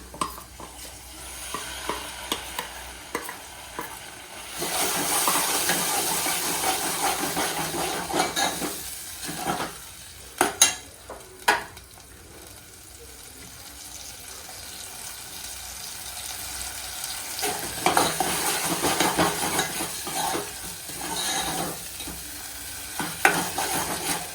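Ground masala paste for katachi aamti is stirred in a hot pan and sizzles steadily, with spatula scrapes and a few sharp clinks against the pan midway. No one speaks.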